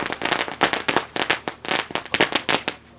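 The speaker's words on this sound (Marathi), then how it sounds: "फटाक्यांच्या कडकडाने आलेल्या पाहुण्यांचे स्वागत" Firecrackers burst at a local cricket tournament match in India after a wicket falls: a fast string of loud, sharp cracks crowding together with brief gaps, close and alone without talk.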